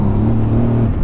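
A 2017 Mercedes C63S engine drones steadily while driving, a deep, even rumble heard from inside the cabin with no talk.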